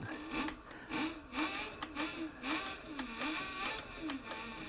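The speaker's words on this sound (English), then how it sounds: "I'm sewing without a guide." A triple-feed arm sewing machine stitching heavy material with thick thread, running steadily with a fast, rhythmic mechanical whir and repeated needle clatter, fairly close and moderate in level.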